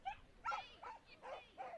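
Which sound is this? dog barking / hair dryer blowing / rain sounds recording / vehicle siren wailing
dog barking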